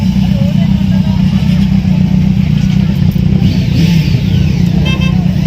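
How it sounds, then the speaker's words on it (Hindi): Motorcycles wait in a lineup at a bike event in Goa, their engines idling and revving in a loud, steady rumble, with a horn toot and faint voices in the background. "There are few more bikes coming up next."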